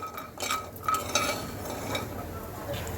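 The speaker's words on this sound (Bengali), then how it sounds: "আমি বড়িগুলো সুন্দর করে ভেজে নিচ্ছি লাল লাল করে ভাজবো" Lentil dumplings (bori) frying in mustard oil in a pan, a soft background sizzle broken by a few sharp utensil clinks and scraping stirs, fairly quiet and close.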